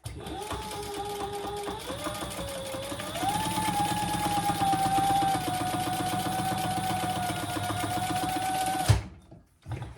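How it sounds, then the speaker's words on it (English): A sewing machine top-stitches across a zipper and F piece on a sling crossbody bag, running steadily and close for about nine seconds with one brief change in speed, then stopping abruptly. "Top stitch across your zipper and your F piece."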